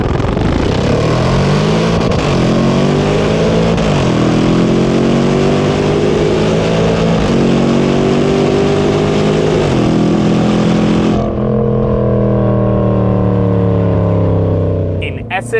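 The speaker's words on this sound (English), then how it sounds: "replaced the standard exhaust system with a sports exhaust system that is 6 kilograms lighter and sounds absolutely mental" A Jaguar F-PACE SVR SUV with a lighter aftermarket sports exhaust revs hard, its loud engine note climbing in rising sweeps through several gears, then easing off into a lower, burbling drone.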